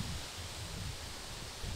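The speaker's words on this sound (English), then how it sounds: "It is getting plenty windy." Steady outdoor wind noise blowing across the microphone, a broad continuous rush with low gusty buffeting throughout.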